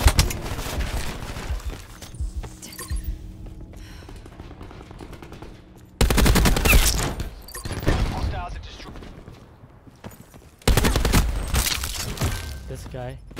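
Rapid automatic gunfire from Call of Duty Black Ops 4 multiplayer, loud bursts of shots in three heavy stretches separated by quieter game sounds, with a player talking over it.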